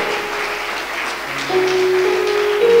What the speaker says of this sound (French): As they are going back, we clap for the Lord.